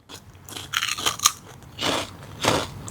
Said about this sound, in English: It's so delightfully crunchy